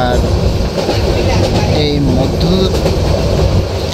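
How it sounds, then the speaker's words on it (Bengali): The Mohanagar Express, running from Dhaka to Chittagong at midnight, gives a loud, steady rumble of rolling carriages with faint squeals and rattles throughout, and a voice speaks briefly over it. "মাঝরাতে এরকম ট্রেন জার্নি"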